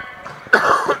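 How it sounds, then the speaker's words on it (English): A single sharp cough bursts out close to the microphone from a commentator calling a men's college volleyball match between UCLA and Daemen College, preceded by a brief throat-clearing breath. "Excuse me, I'm having a coughing attack there."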